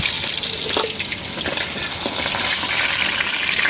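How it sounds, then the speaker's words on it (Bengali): Pangas fish fries in a pan during outdoor cooking beside a pond, a steady close hiss and sizzle running evenly throughout without talk. "পাঙ্গাস মাছ যদি ভাজা খাইতে সবাই"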